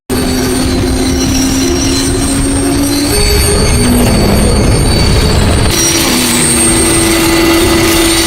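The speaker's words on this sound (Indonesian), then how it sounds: "Enzo yang khawatir dengan Alessia, dia pun menghentikan kereta tersebut dengan kekuatannya." Loud, continuous metallic squealing of a mini train's wheels on rails as it brakes to a stop, with a rumbling undertone, pitch shifting as the cars slow down.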